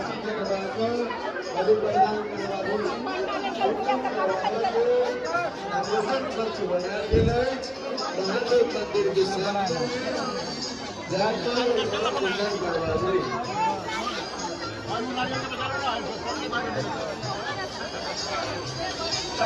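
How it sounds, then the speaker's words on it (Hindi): A large, dense crowd of devotees at the Uchchaith Bhagwati temple on the ninth day of Navratri, with a continuous loud babble of many voices close around and a person talking over it. "आइका देखियो पूरा क्राउड भरल"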